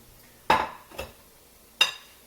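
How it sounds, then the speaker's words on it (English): Chopped tomato dropped into a pan of egg for an omelette: three separate clattering impacts of food and utensil against the pan, fairly close, with no talk. "I'm going to go ahead and add my tomato."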